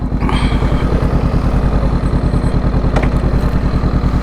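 A motorcycle engine idles and runs close by, a steady, rapid low throb that pulses evenly throughout with a faint mechanical clatter and no talking.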